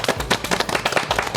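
A small studio audience at a Korean youth parliament quiz show claps steadily for a few seconds, a dense even patter of hands close by.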